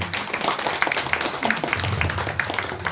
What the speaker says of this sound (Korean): 김태근 작가님께 우리 박수 한번 줄까요?